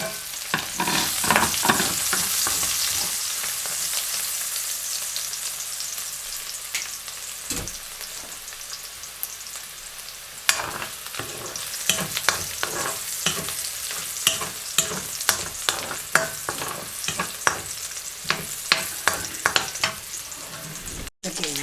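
Garlic sizzles steadily in a hot pan across the whole stretch, with frequent close scrapes and stirring clatter on top of the constant frying hiss, and no talking.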